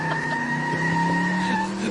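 A car skidding sound effect plays as a vehicle takes off, a sustained tire screech with steady tonal whine lasting under two seconds, loud and up front, with no voices.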